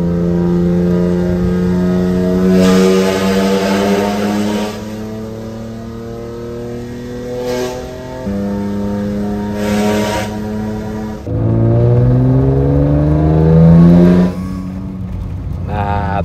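BMW E36 with a six-cylinder engine and valvetronic exhaust, revving hard in repeated pulls that climb quickly, loud and close, with short lulls between throttle blips.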